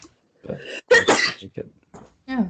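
A single sharp sneeze at a casual online party gathering, surrounded by brief bits of nearby talk.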